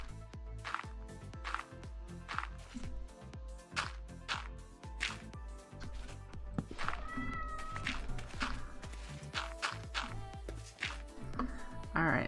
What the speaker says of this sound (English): if you like to track when Hermes meows, this is about the time you're going to start hearing him as he gets louder and louder